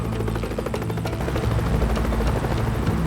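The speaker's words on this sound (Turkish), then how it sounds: "Şu helikopteri de çek tepemden!" A helicopter's rotor drones steadily and fairly loudly throughout, a continuous chopping hum with no break.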